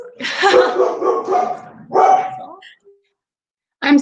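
A pet dog barks and yips in short bursts close to the microphone, a couple of clustered volleys separated by a brief pause, with a voice talking nearby.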